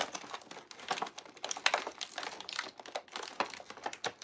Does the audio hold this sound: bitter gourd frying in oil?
no